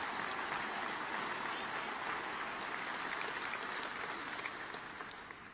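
Applause fills a large conference hall during a general session at Red Hat Summit 2015, a broad steady roar of many hands that stays even and then slowly fades, heard somewhat distant and faint.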